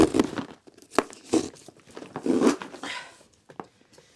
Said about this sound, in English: We've got to peel the seal together.